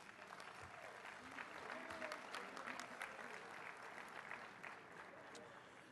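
A luncheon crowd at an annual mayors' meeting applauds Philadelphia's mayor, a steady wash of many hands clapping for about six seconds at moderate distance, with some murmuring voices mixed in.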